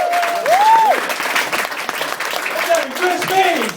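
Loud, steady audience applause and cheering for a stand-up comedian at a live comedy night in Stroud, with a whistle rising and falling over the dense clapping and voices calling out.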